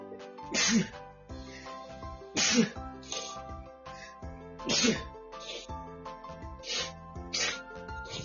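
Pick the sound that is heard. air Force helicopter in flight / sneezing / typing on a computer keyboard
sneezing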